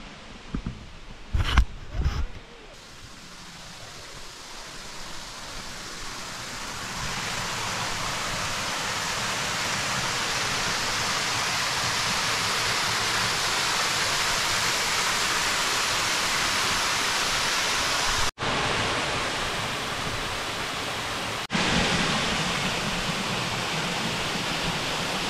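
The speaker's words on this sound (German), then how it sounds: "Hier angekommen, Wasserfall Mossa da Loira, also die Blondine, das blonde Mädchen." The Mossa da Loira waterfall in Chapada Diamantina roars as a steady, dense wash of falling water, close and loud. It holds constant throughout after a few brief knocks at the start.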